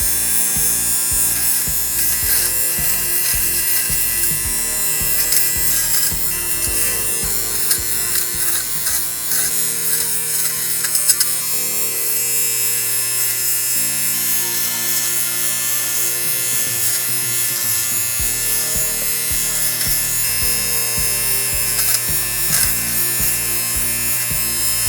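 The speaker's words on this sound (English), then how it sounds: "We'll go ahead and remove the pilling now." A handheld electric fabric shaver hums steadily and loudly while it removes pilling from the fabric of a 1997 Big Comfy Couch Loonette doll, with its pitch and buzz shifting as it drags across the cloth, close and without talk.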